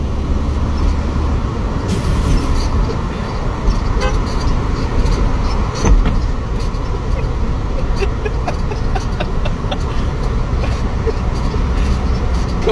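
A car horn honks while driving in traffic alongside another vehicle, with short toots breaking through steady road and engine noise and some talking inside the car.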